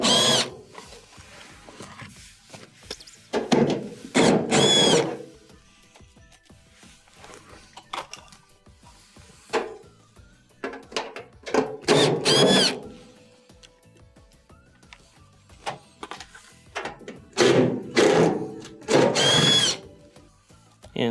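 A power driver backs out quarter-inch screws from underneath a Maytag dryer in several short bursts of whirring, each spaced by quiet handling pauses, close and fairly loud.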